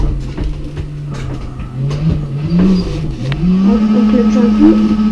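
A Mazda Miata's engine drones and rises through drifts in CarX Drift Racing on PlayStation, a steady pitch climbing and wavering as revs build, loud and continuous with tire noise beneath.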